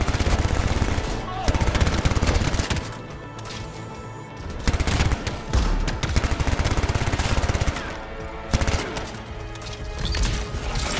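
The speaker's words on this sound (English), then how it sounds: "Hey, who's shooting me?" Gunfire aimed at the player in the video game Anthem rattles in loud rapid bursts, broken by short pauses and a few heavier cracks, with some game voices mixed in.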